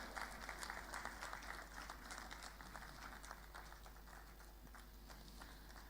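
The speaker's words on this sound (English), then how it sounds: "Let's clap for him as he comes to take the award." Faint, distant applause fills a hall as a winner comes forward to collect an award at a regional health sector review meeting. It is a continuous patter of many hands over a steady low electrical hum.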